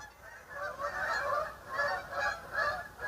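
Honking waterfowl calls, ducks calling nearby in a few rhythmic bursts, moderately close and fairly faint against a quiet outdoor background.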